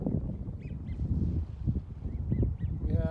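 Ducks on the water, with common mergansers and buffleheads among them, give a few scattered quacks over steady low outdoor rumble and wind noise.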